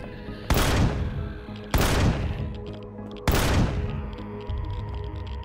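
Heavy GAT gun in Empyrion Galactic Survival fires three loud, booming bursts about a second apart, each blast sharp at the start and then decaying into a rumbling tail, with steady low background hum between the shots.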